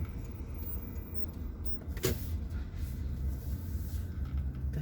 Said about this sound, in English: here's an idiot driving down the wrong way